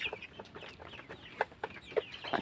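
Tiger chickens on a backyard poultry farm cluck in short, repeated bursts at close range, with a few sharper calls standing out against a soft background.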